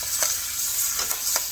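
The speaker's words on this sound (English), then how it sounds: "And we're going to saute this up." Baby bok choy seasoned with salt sizzles and sautés in a hot pan, a steady frying hiss broken by a few soft stirring scrapes, close and alone.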